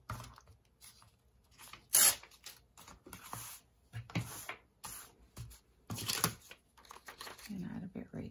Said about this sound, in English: paper tear here.